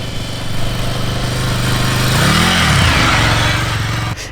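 A 2019 Ducati Scrambler Icon motorcycle accelerates on dirt, its engine droning loud and steady, then swelling in a brief rev surge midway before cutting off abruptly near the end.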